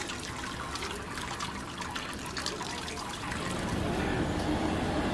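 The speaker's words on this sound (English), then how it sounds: "And I sparge with about 13 litres of water." About 13 litres of sparge water trickles into a grain mash while brewing a porter. The close, steady splashing flow grows somewhat louder over the last couple of seconds.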